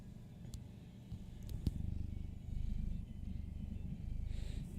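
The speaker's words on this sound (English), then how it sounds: "She's purring." A low, steady rumbling purr from a cat, continuous and close, with soft fluctuations and a few faint clicks.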